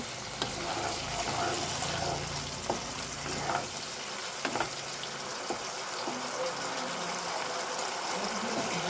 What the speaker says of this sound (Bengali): আর একটু জল দিয়ে একটু মশলাটাকে কষিয়ে নিব